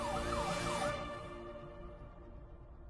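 A wailing siren sweeps up and down for about a second, then fades into a faint tonal hum; quiet and distant, no talking.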